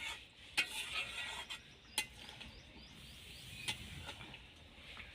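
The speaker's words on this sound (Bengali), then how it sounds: "এবার একটু নেড়ে নেব।" A spoon stirs Bengali egg curry in a cooking pot, making faint scraping sounds and a few soft clinks against the metal in a quiet kitchen.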